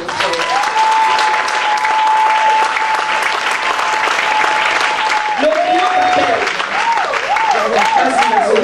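A church congregation applauds in praise, a loud, continuous wash of clapping that carries on for several seconds, with a sustained sung or voiced tone and warbling vocal notes over the top.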